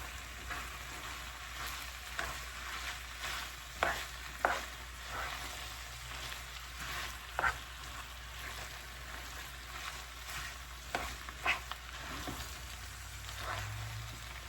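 Flour being stirred into a meat sauce of ground beef and Italian sausage in a pan, a soft steady sizzle with scraping spoon strokes and occasional clicks of the utensil against the pan.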